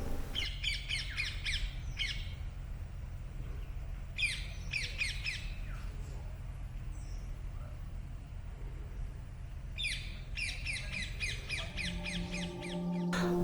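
Birds call around the Gandhi ashram forest at Nimdih, Jharkhand, with harsh crow-like squawks arriving in three clustered bursts over a low, steady outdoor hum.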